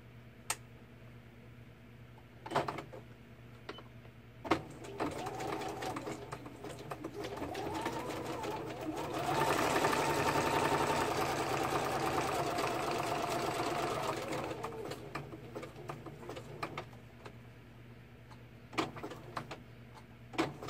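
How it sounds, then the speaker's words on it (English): A sewing machine zigzag-stitching down a raw fabric edge, running steadily for several seconds in the middle, fairly close, with scattered clicks and handling noises before and after; no talk. "I'm just going to zigzag the raw edge down."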